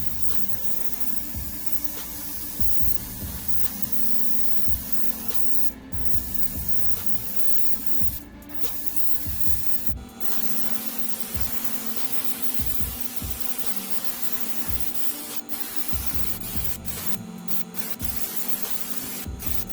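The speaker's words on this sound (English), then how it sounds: "what I'm going to do is I'm actually going to paint black over this for the gun" Black spray paint hissing from an aerosol can over a 3D printed gun model, a steady close hiss that runs for the whole stretch, with a few short breaks and brief spurts.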